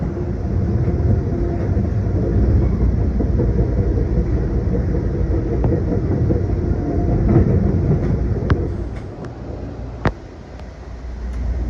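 Continuous loud rumble of the Amtrak City of New Orleans passenger train rolling along the tracks out of Chicago, with faint rhythmic clatter, easing slightly near the end before a brief click.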